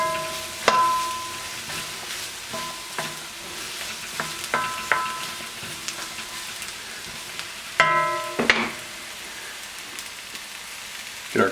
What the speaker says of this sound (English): Then we're going to just dump our eggplant right on in. Mix it all up with the aromatics.